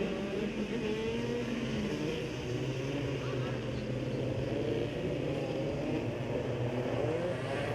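Go-kart engines at an X30 Southeast Asia kart race drone and whine continuously from a distance, a blended buzzing of several karts rising and falling, with a commentator talking over them.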